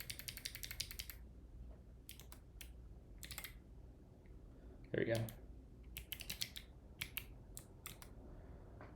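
Computer keyboard typing in short bursts of clicks at a desk, with a louder clatter midway, under quiet room tone and a brief spoken remark.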